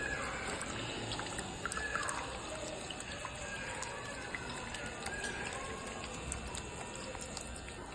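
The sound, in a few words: pumped water falling onto bottle caps turning motor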